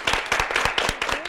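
Television studio audience applauding to welcome a guest onto the set, a brief burst of rapid, dense hand clapping, close and moderately loud.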